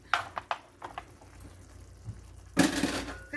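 Food being stirred in a pot for baked spaghetti and meatballs, a few soft wet scrapes and squelches close by, then a louder burst of sloshing and crunching near the end, with no talk.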